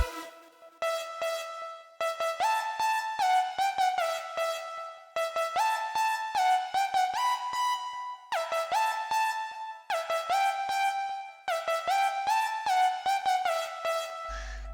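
A square-lead synth preset plays a bright melody built in FL Studio, phrases of short repeated notes with clear harmonics, filtered at times, steady and upfront with brief gaps between phrases and no voices.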